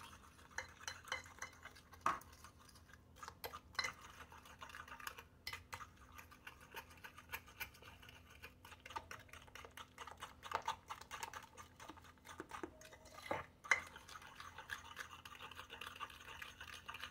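Spoon stirring banana cinnamon cake batter after two eggs are added, a soft, irregular scraping and clinking against the bowl, close and fairly quiet with occasional sharper taps, no talking.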